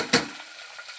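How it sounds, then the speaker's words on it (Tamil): Onions sauté in a pan of Tamil-style green gram kulambu with a soft, steady sizzle and one short stirring scrape near the start. "வெங்காயம் வதக்கட்டும்."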